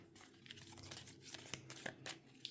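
Tarot cards being shuffled with some difficulty, giving papery crinkling and riffling crackles with a few sharper snaps, close and fairly quiet.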